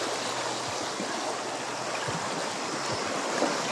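A mountain stream rushes steadily near the water's edge, a continuous broadband hiss and burble with no pauses and no voices.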